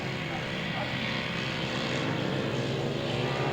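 Grasstrack sidecar racing outfits roar away from the start line in a sustained, dense engine drone, with a voice speaking over the noise.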